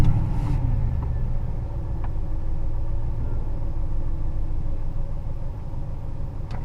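A car engine runs during a battery cranking test on a DIY mechanic's vehicle, a loud opening crank-and-catch giving way to a steady, close idling rumble.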